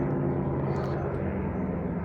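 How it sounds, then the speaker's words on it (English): An airplane coming in to land, heard as a steady low droning rumble with a faint higher whine, continuous and fairly close throughout, with no voices. "Oh, that's a plane coming in."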